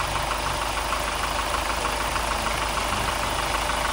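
A Hyundai Starex CVX with low power and a blinking check-engine light idles steadily, a close, constant engine hum with a faint ticking knock running evenly throughout.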